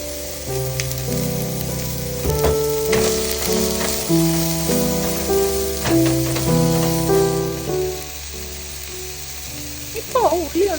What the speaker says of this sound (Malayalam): ഇനി നമുക്കിതിലേക്ക് ഒരു ഉള്ളി ഇതേപോലെ അരിഞ്ഞത് ഇട്ട് കൊടുക്കാം